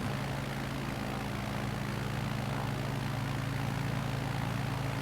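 A small propeller plane climbs at about 10,000 feet on a Nevada bush flight, its engine a steady, loud, droning roar with a low throbbing hum that fills the cabin without a break.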